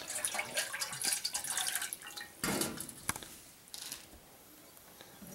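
Tap water runs and drips into a vessel, being measured out for a trial boil on a wood, alcohol and sanitizer stove; splashy, uneven bursts of pouring with brief pauses, close by and fairly quiet.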